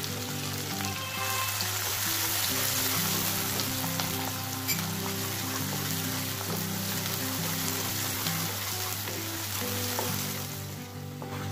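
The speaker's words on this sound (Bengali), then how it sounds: "পেঁয়াজটা লাল হওয়া পর্যন্ত আমরা নাড়তে থাকবে" A generous amount of onion sizzles in a pan with cardamom and cinnamon, a steady close crackling hiss with soft scraping from occasional stirring, continuous and without talk.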